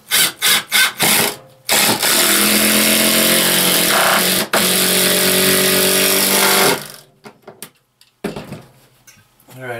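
Power drill driving screws in a tiny house shower installation: a few short trigger bursts, then one long steady whine lasting about five seconds before it stops, followed by quieter handling noise.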